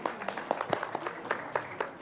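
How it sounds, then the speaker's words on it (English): An audience at an AI summit applauds a panel guest with light, scattered clapping, individual claps standing out against a quiet room. "A huge round of applause,"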